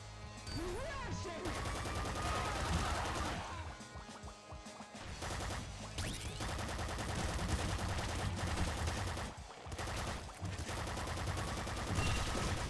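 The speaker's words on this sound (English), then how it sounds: "Bouncer SMG is decent though." Rapid bursts of Bouncer SMG fire from the video game Nuclear Throne, with crashing impacts, rattle in fast volleys broken by brief gaps, fairly quiet overall.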